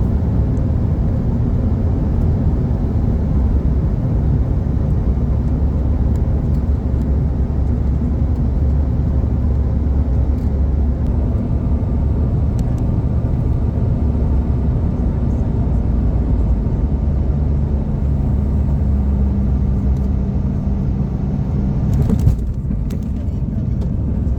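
An American Eagle CRJ700 jet landing at Phoenix, heard from inside the cabin as a steady, loud, broadband engine and airflow roar that runs unbroken throughout, with a brief jolt and shift in tone near the end.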